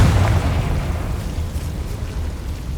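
A Confringo spell goes off in Hogwarts Legacy as a soft, muffled boom at the start, fading into a low rumbling tail.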